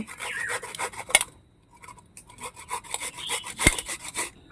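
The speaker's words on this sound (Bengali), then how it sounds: "এই আদাটা ঘষে নিচ্ছি" Fresh ginger being grated by hand, quick rough rasping strokes in irregular bursts with a short pause and a couple of sharp clicks, close and fairly clear, without speech.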